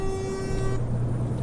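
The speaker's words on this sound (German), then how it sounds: "So eine Hupe kann Sinn haben." A truck horn honks in Euro Truck Simulator 2, a loud steady tone held for nearly a second over the low drone of the engine, which keeps running after the horn cuts off.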